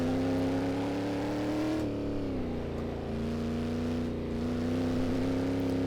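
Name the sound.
Shelby Cobra 427 engine while driving, from video game Assetto Corsa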